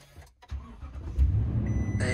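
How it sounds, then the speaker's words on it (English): A truck's engine cranks and catches, rising quickly into a loud, close, rumbling idle after a short silence. "So let me turn on the truck."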